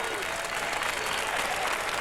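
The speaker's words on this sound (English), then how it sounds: "Crowd very excited." A crowd cheers excitedly with steady, dense applause that carries on throughout at an ultimate frisbee world championship match in 1991.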